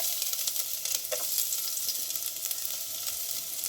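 Chopped onion and green chilli sizzling steadily in hot oil in a pan, a dense continuous hiss with a few soft crackles, close and even throughout, no voices.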